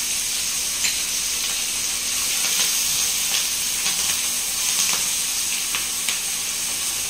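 Mustard paste fries in hot oil, a steady close sizzle and hiss with small popping crackles scattered throughout, and no voices.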